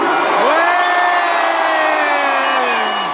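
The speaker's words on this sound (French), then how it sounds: "Et je fais un tonnerre d'applaudissements et de bruit pour Caris." A large crowd of fans gathered in a park to support France cheers and whoops in one sustained roar, loud and continuous, with voices rising together and holding throughout.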